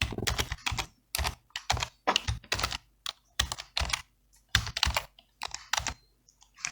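Someone types a username and password on a computer keyboard, close and crisp, in irregular bursts of rapid keystrokes separated by brief pauses.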